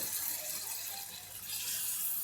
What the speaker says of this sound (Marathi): आता आपण याच्यामध्ये पाणी टाकतो